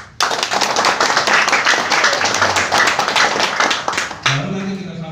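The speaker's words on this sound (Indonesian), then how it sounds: "Tepuk tangan dong" An audience at a state-enterprise economic outreach event in Klaten breaks into dense, loud applause lasting about four seconds, then cuts off abruptly, leaving faint murmuring voices.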